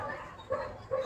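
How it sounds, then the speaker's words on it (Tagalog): A dog, apparently a lost one, gives faint, short yips and a whimper. There are two or three brief soft bursts at a distance over a quiet background. "sa mga nawawalang aso dyan, nandito yung aso nyo"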